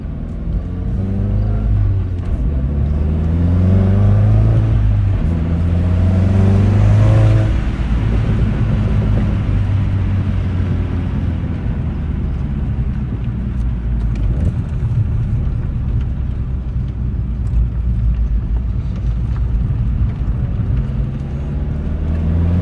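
Modified Volkswagen MK7.5 GTI, Stage 3 with an IS38 turbo, on the road: a steady, loud engine drone with low rumble and harmonic rises as it accelerates through gears, continuous throughout with no talking.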